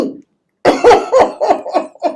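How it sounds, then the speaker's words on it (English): A person coughs in a quick series of about five or six close, loud bursts after a brief moment of silence. "I coughed."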